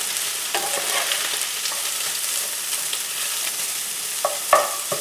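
Mushrooms and sausage sizzle steadily in a pan while a utensil stirs and scrapes them, with a couple of sharper knocks near the end; close and moderately loud, no talk.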